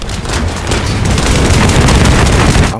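A character's ultimate ability erupts in The First Descendant during a void boss fight, a dense, loud barrage of booming blasts and rapid gunfire-like bursts running continuously for the whole stretch.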